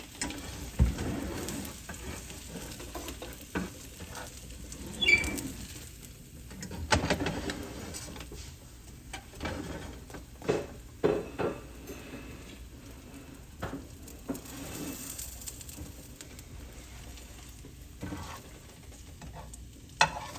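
Grilled cheese burritos fry in a pan with a quiet, steady sizzle, broken by occasional soft scrapes and clatters as they are moved about.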